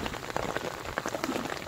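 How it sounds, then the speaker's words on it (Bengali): Heavy rain beats down on a river in the Sundarbans, a loud, dense patter of drops striking the surface close by, steady throughout with no voices. "বেশ ভালোই জোরে বৃষ্টি আসছে।"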